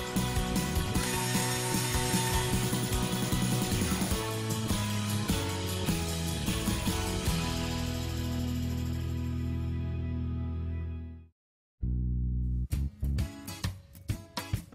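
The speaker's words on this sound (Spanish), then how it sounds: "Realizamos los agujeros con broca de 3 o 4 milímetros." A drill with a 3 or 4 mm bit bores holes, likely into a recycled jar lid, for a school project. It gives a loud, continuous, slightly ratcheting whine, then cuts out and is followed by a few brief clicks and clatters.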